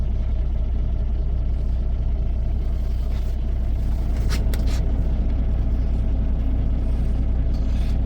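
A car-hauling truck maneuvering to park late at night gives off a deep, steady low rumble that idles close and constant, with a few brief faint higher squeaks partway through and no talking.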